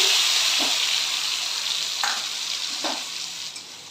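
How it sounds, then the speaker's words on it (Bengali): Ground spice paste hits hot oil for jackfruit kachori filling, giving a loud steady sizzle with a few soft scraping stirs spaced through it, no voices. "তেলটা আমাদের গরম হয়ে গেছে, এবার আমি এই বাটা মশলাটা ঢেলে দিচ্ছি।"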